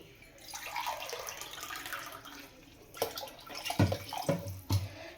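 Water poured into a pressure cooker for chicken biryani, a continuous close splashing rush with heavier sloshes and bumps near the end.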